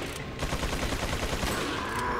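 Gunfire in the video game Resident Evil 4, a rapid, dense run of loud shots rattling close by for about two seconds with no talk over it.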